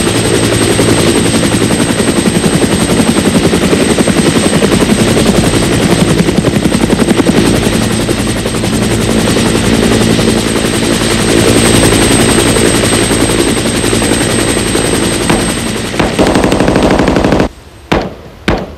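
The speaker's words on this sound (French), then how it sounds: "Les hélicoptères Medivac sont équipés d'un système pour hisser les soldats blessés à bord quand les appareils ne peuvent atterrir" Medevac helicopter rotors beating loudly and steadily close by, a rapid chopping thump sustained the whole time before abrupt cutoffs near the end.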